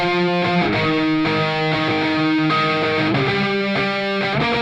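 A dry electric guitar plays a sequence of sustained, harmonically rich chords, changing roughly every half second, with no plugins or effects added.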